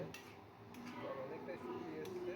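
A spoon knocks and scrapes against a covered pot while mung dal and vegetables are stirred, a few faint metallic clinks over a soft low cooking hum, quiet and close.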